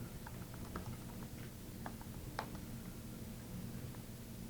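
A VNC password is typed on a computer keyboard, giving faint, sparse key clicks over a steady low background hum in a quiet room.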